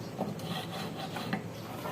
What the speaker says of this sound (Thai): อันนี้คือเราใช้ขอขีดใช่ไหมครับ แล้วเราก็มาขีดที่ขา